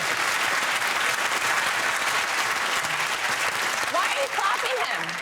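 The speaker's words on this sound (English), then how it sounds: "Why are you clapping" A comedy panel show's studio audience claps in a dense, steady round of applause that fills the room, with a voice briefly coming through near the end.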